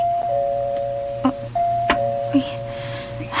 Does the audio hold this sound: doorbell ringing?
yes